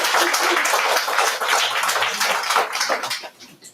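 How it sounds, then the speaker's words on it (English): Audience at a graduation ceremony claps in a dense burst of applause that holds steady, then thins and fades out near the end. "Give yourself a round of applause."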